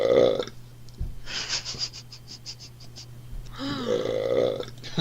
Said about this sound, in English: hear myself burp again in the stream